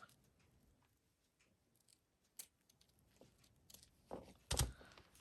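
Scissors snip through the velvet-clad leg of a handmade gnome craft, a few faint clicks and rustles building to a couple of sharper, louder cuts near the end, close and otherwise quiet.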